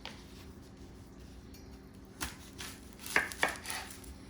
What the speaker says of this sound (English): Cut up our red onion first.